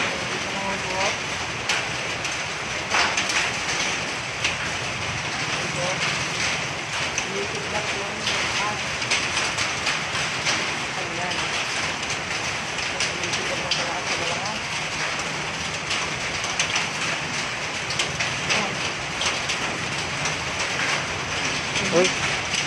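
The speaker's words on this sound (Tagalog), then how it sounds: "Inaabot na po ako ng ulan na ngayon." Steady broadband hiss of rain falling during the Taal volcano eruption, close and continuous, with scattered crackles and a person speaking intermittently over it.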